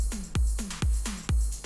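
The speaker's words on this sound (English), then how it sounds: "with the sidechaining it sounds like this." An electronic music track with sidechain compression on the drums: regular kick hits with the rest of the mix dipping and swelling back after each one, giving a pumping groove, no voices.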